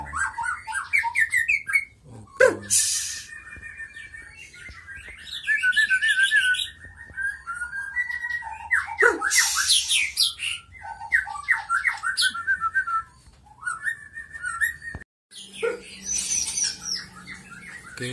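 White-rumped shama birds (murai batu) kept in breeding cages call near at hand with loud whistles, chirps and harsh squawks in irregular bursts, and faint talk sits underneath.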